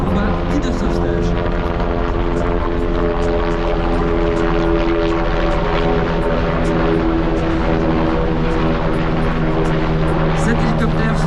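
A large military cargo helicopter over 11 tonnes at the Air Legend air show in Melun-Villaroche, a loud sustained droning engine and rotor roar with rhythmic blade chop, talk faintly mixed in.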